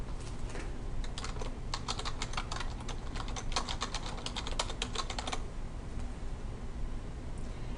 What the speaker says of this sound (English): Then we can press the Tab key and type Digital Security Review